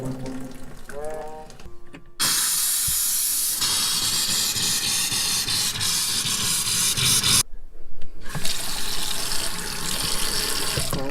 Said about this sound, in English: I heard water sound.